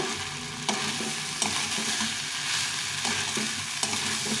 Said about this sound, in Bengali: এখন এই চালটা একটু ভেজে নিয়ে মশলার সঙ্গে একটু ভালো করে ভেজে নিব